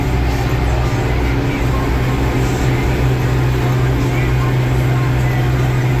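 An MTZ 892.2 tractor works a dry field, its engine a loud, steady drone with a deep, even hum that holds without a break from start to finish.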